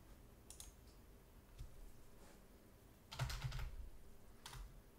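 Typing on a USB computer keyboard, faint scattered key clicks with a denser burst of quick taps near the end, quiet and close with no voices.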